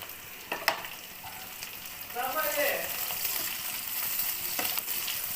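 Onion and capsicum fry in a pan for chilli chicken, a steady sizzle that swells midway as stirring clatters, with a couple of sharp utensil knocks near the start.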